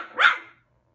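A single short, sharp bark from a Biewer Yorkshire Terrier puppy barking at her reflection in a mirror, close by and alone, ending abruptly into silence.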